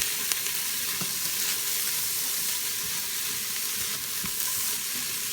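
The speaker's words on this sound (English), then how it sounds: "and the celery. I'm going to saute that up a little bit." Celery and carrots sauteing in an Instant Pot for potato soup, an even continuous sizzle and hiss close up with faint stirring clicks, no voices.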